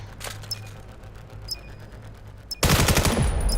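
Video game gunfire erupts in a sudden loud burst of rapid shots during a competitive match, following a stretch of quieter ambient sound with a few sharp clicks.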